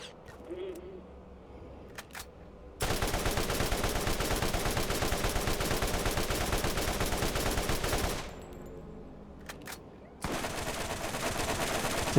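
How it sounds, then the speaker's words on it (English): A gun in the video game Borderlands fires in two long stretches of rapid, loud shots, the first lasting about five seconds and the second starting after a short quiet gap. "That's another 3-round burster."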